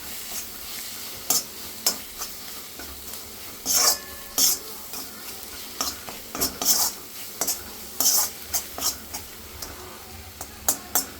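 Amaranth leaves (thotakura) fry in a pan, with a low sizzle under frequent bright, rhythmic scraping strokes of a spatula stirring against the metal.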